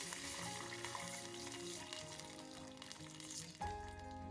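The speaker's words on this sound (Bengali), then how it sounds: "কাঁচা লঙ্কাগুলো একটু ভাজা ভাজা হয়ে গেলে এর মধ্যে দিয়ে দেব কয়েকটা কারি পাতা" Green chillies and curry leaves sizzle steadily in hot oil as they fry, a continuous crackling hiss running under background music throughout.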